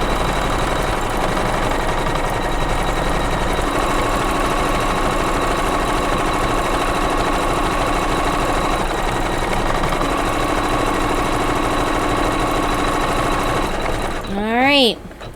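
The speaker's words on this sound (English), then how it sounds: "this will be number 9 of the embroidery file that it is going to stitch out" An embroidery machine steadily stitches out a flagpole design for a Kimberbell Sweet Land of Liberty pillow, a continuous close mechanical whir with fast regular needle rhythm throughout, ending with a brief rising electronic beep sequence.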